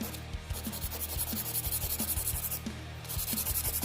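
Rapid back-and-forth filing of gel off a fingernail, a dry rasping scrape repeating in quick even strokes, close and steady with no talking.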